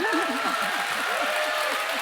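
A crowd at a live political event applauds a politician, a steady broad wash of clapping that runs beneath a speaking voice for about two seconds.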